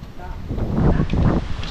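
Strong wind roars and buffets the microphone in a steady low rush, with gusts swelling louder midway through, close and harsh against the open outdoor setting.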